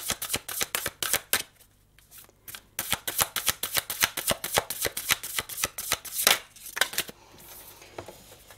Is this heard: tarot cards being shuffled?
yes